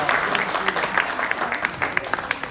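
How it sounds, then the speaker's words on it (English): Audience applause at a South Asian Heritage in Wales 2022 event, following a dance performance: steady clapping from a crowd, moderately close, with distinct individual claps poking through a dense wash. "I think they deserve another round of applause from everybody."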